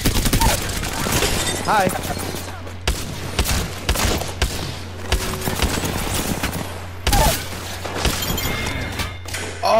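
EVA-8 shotgun fire in Apex Legends, a series of loud, sharp blasts spaced a second or so apart amid a chaotic firefight with other gunfire, thuds and shattering, while a player briefly speaks.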